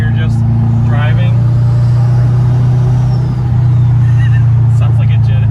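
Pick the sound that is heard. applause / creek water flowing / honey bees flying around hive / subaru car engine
subaru car engine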